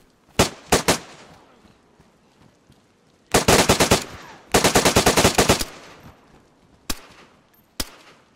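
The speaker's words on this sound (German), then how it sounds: "Hallo, hallo, hallo, wer schießt denn hier?" Machine gun fire in the video game DayZ comes in loud, sharp bursts: a few quick shots, then two long rapid strings, and later two isolated single cracks with quiet gaps between them.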